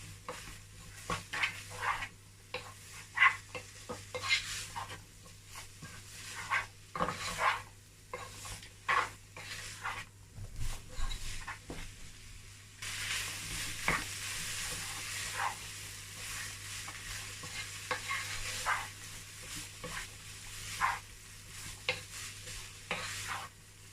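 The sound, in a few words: stirring chicken pie filling with aromat in a pot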